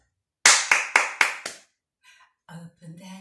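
Five crisp, close hand claps in a quick even rhythm during a children's action rhyme, followed by soft speech.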